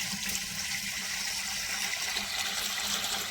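Fresh water from a motor-pumped supply filling a pot or earthen vessel, a continuous even rushing stream heard close and without pauses.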